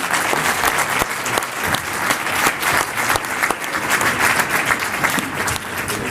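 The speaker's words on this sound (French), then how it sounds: "Vous pouvez applaudir le panel, s'il vous plaît." A room full of people clapping steadily and loudly, a dense continuous wave of applause that holds its level throughout.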